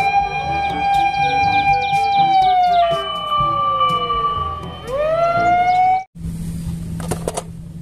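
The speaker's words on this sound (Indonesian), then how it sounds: "Widih, lihat, ada mobil pemadam kebakaran." A fire engine siren wails loudly and close by, holding a steady tone before sliding up and down in pitch, then cuts off abruptly near the end, leaving background street noise.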